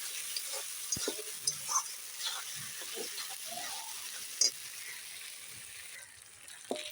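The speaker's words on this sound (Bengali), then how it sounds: "একটু জল দিয়ে জল দিয়ে ভালো করে কষিয়ে দিচ্ছি" A spice paste sautéed with a splash of water in a pan: steady hissing sizzle with irregular scrapes and taps of a stirring spoon, close and moderately loud, with a brief sharper clatter midway.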